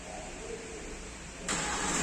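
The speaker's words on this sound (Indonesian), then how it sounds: "Nah nih, suara mesin langsung nyala nih." A low background hum continues, then a Hyundai Santa Fe diesel engine abruptly starts by remote start partway through and keeps running steadily, close by.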